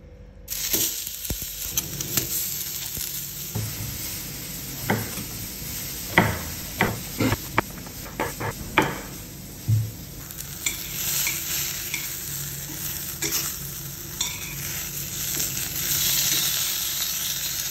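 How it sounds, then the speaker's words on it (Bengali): Burger patty frying in a pan, a steady sizzle running throughout with a string of sharp clanks and scrapes from a spatula in the middle stretch, close and moderately loud with no voices. "তারপরে বার্গার স্লাইসটাকে ফ্রাই করবো"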